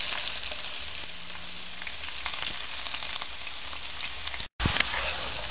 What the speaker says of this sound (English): So at first I am going to add this chopped onion.